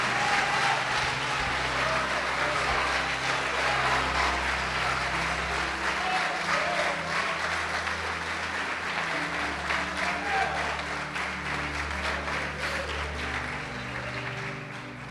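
Congregation applauding Jesus in a church during a sermon, a broad, sustained wash of clapping over a low sustained hum, fairly even in level and slowly tapering toward the end.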